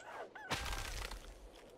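Chickens in the video game Kingdom Two Crowns give a sudden squawking, clucking burst partway through, loud and close, after a brief quieter lead-in.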